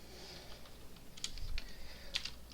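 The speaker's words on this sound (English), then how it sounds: "I need to like readjust my keyboard so it's not so slippy." Soft, close typing on a computer keyboard that slips on the desk, with a few sparse, light key clicks and slightly louder taps near the end, no talking.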